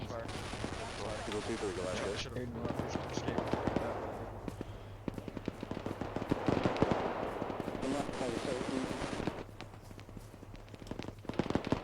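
Gunfire in the military shooter game Arma 3, a run of sharp cracks and bursts scattered through the scene over a steady low engine drone, with voices talking over parts of it.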